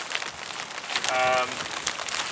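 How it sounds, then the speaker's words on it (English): Rain patters steadily on a poly-covered greenhouse with a dense, crackling hiss, and a brief whistle-like tone appears midway. "We might have to bring the camera inside because it's raining, as you can probably hear."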